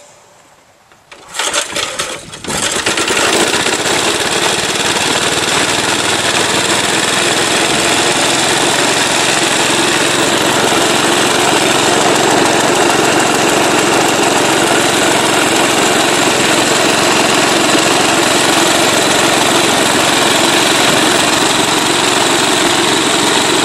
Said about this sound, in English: I will drop the belt on and start the engine to start.